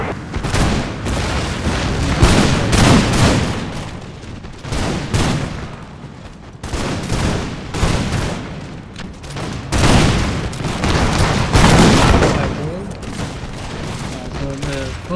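Musket volleys and scattered gunfire ring out in a Total War: Empire battle set during the American Revolution, with repeated loud bursts of massed shots rolling over one another, battle noise and faint music underneath, and background voices.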